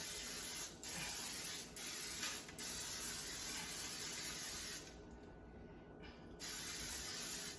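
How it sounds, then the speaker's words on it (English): Olive oil cooking spray hisses onto a pan in several long steady bursts with brief breaks between them, close and fairly loud, with no voices. "The pan with olive oil cooking spray."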